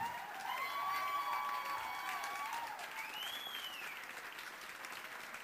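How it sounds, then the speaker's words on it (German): An audience at a Blues Brothers-style stage show applauds in a soft, distant wash of clapping, with a few high, whistle-like tones sliding over it. "Applaudieren wir nochmal fürs Publikum."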